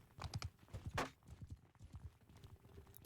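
Quick, light hoof clatter of a horse in the video game cRPG2, with a rapid trotting rhythm, fairly close, a short sharper knock near the middle, with no voices.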